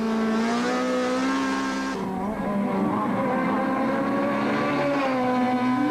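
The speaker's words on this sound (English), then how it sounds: "In the car with Habich, it's plain to see that the front-wheel drive Golf needs a lot of coaxing to control in the wet." A front-wheel-drive Volkswagen Golf rally car is driven hard on a wet track. Its loud engine holds a steady high-revving note, drops at a gear change, then climbs again, sounding close and continuous throughout.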